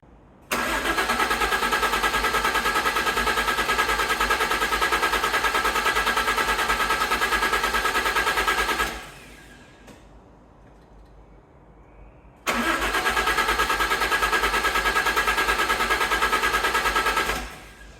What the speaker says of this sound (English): So let's just see if we can get it started.